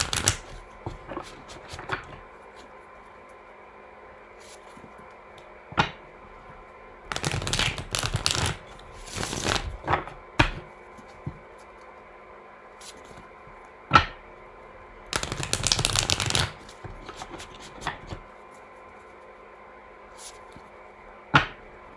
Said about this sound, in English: clear the energy of the deck, shuffle a bit